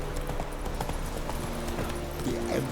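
The horse Roach in The Witcher 3 galloping, rapid rhythmic hoofbeats clopping steadily at close range, with game sounds and a low background score beneath.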